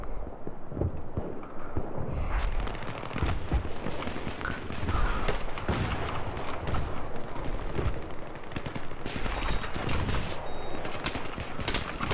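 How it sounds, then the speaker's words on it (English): Sustained gunfire fills a Battlefield 3 firefight on the Canals map, with rapid automatic bursts and heavy booming shots rolling continuously, loud and near. "I'm getting shot, but I don't know from fucking where."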